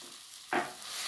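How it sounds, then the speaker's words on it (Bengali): Mashed boiled potato and fish being stirred together in a hot pan with dry chilli powder, giving a single short scraping sizzle burst that swells and fades against a quiet background. "আলু আর মাছ আমি খুব ভালোভাবে একসঙ্গে কষিয়ে নেব"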